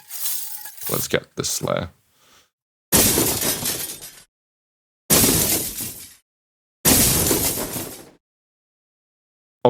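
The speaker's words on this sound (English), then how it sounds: "And maybe you want some more shard sounds." Glass shard debris built by granular synthesis in Phaseplant crashes in several loud, separate shattering bursts, each about a second long with crunchy, glittering tails and short silences between; a brief spoken remark comes at the start.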